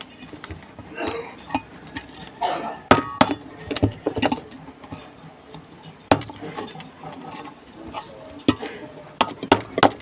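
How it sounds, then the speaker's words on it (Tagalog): Sharp metallic knocks and clinks at irregular intervals as a washing machine bushing is struck with pliers, mixed with rattling and shuffling of parts. "Ngayon, paluin natin gamit ang plies."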